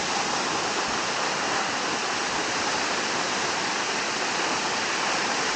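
The Jalagampari waterfall in the Yelagiri hills roars steadily, a dense, unbroken rush of falling water close by with no other sounds standing out.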